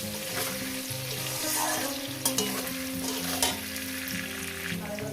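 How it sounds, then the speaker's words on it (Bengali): Potatoes frying in oil in a pan, a continuous close sizzle with a few sharp knocks and scrapes of stirring. "তিন মিনিট ধরে আমি আলুটাকে সুন্দর করে ভেজে নেব"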